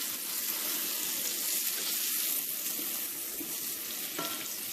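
Pork schnitzel just turned over in a cast iron skillet, frying with a dense, continuous hiss and sizzle that stays steady and close the whole time, no talking.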